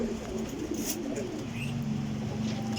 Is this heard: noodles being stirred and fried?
no